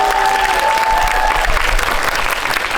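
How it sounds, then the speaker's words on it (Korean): An audience at a Korean film talk event after a screening of the movie Hunt applauds steadily throughout, a dense, even wash of clapping with crowd murmur and no break. "박수 부탁드립니다"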